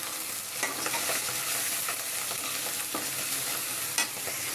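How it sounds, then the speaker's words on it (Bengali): Shrimp and taro stolons cooking in a pan, a dense steady sizzle of frying with occasional scraping stirs of a utensil, close and even in level throughout, no speech. "এটা হলো চিংড়ি মাছ দিয়ে লতি দিয়ে রান্না করতেছে।"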